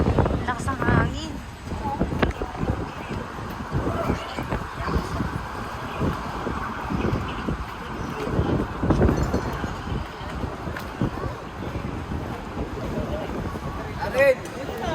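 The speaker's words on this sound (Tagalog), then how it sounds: "Lakas ng hangin." Strong gusts buffet the microphone outdoors in a busy Cubao street setting, a steady rumbling roar that swells and drops throughout, with people talking and calling out over it.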